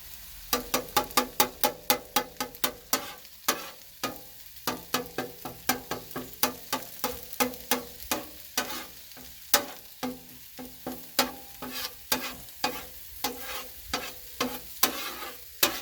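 Eggs cooking on a Blackstone griddle for pork breakfast quesadillas, with a rapid, regular series of spatula taps and scrapes on the hot surface over a low sizzle and no talking.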